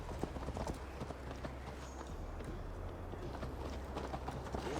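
A horse galloping in Assassin's Creed Valhalla, a steady, quick clip-clop of hooves at moderate distance. It keeps an even running rhythm throughout at a fairly low level, with no talk over it.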